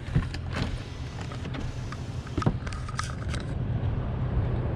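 A 2005 Lexus RX 330 sunroof motor whirs steadily inside the cabin for several seconds, a close, even mechanical hum with a few small clicks and rattles on top.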